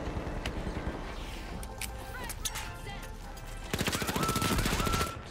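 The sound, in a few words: gunfire at a turret in video game The Finals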